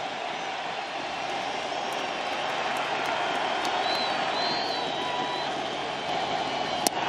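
A big baseball stadium crowd at World Series Game 7 roars in a steady, dense wall of cheering and applause that holds loud throughout, with small sharp peaks near the end.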